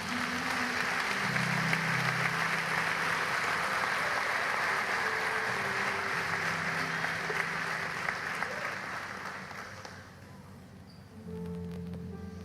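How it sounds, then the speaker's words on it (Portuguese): Congregation at a church service breaking into sustained applause, a broad even wash of clapping that holds steady, then thins and fades near the end. "Dê um aplauso ao Senhor."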